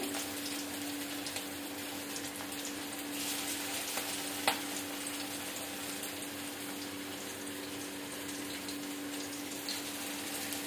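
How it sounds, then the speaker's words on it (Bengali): Steady, gentle sizzling of chicken frying slowly in a little oil in small batches continues throughout, with an occasional faint pop or clink. "এটাকে ভাজতে হবে আস্তে আস্তে।"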